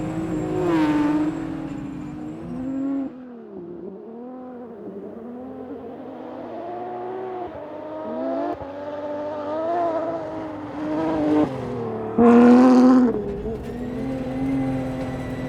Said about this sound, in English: Just keep throwing more gears, but listen to it.